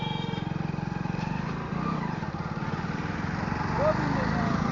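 A Hero Splendor+ 2025 motorcycle engine pulling in second gear, a steady low putter of rapid exhaust pulses heard up close and holding an even pace throughout.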